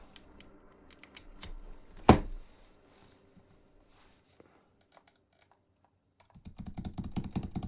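Computer keyboard typing in bursts of quick clicks during a session writing a demo in Logic, with one loud knock, a pause of sparse single taps, then a denser flurry of keystrokes near the end.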